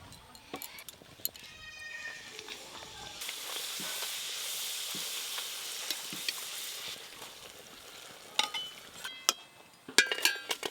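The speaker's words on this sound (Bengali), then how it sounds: "লুচি ভাজার জন্য তেল গরম হয়ে গেছে। এবার লুচিগুলো ভেজে নেব।" Luchi sizzling and crackling in hot oil, a loud steady frying hiss that swells midway, with sharp ticks and pops toward the end.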